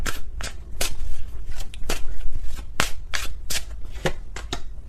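Tarot cards being shuffled by hand, close and crisp, in a quick irregular run of riffling snaps and flicks with no talking.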